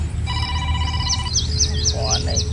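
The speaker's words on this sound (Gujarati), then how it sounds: "ફોન ઘરકુનો આવે છે" A telephone rings at home in a rural Gujarati household, with a repeated electronic ringtone pattern of short warbling bursts over steady background hum.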